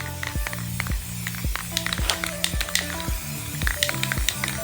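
Spray paint can running low while coating hubcaps red, hissing in short repeated bursts with sputtering pauses between them, close and fairly quiet.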